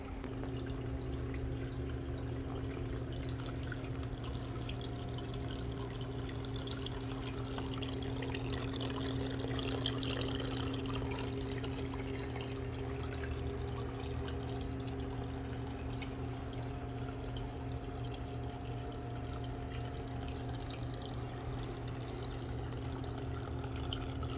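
Water trickles steadily into a small homemade patio pond, a soft continuous splashing and dribbling with no voices.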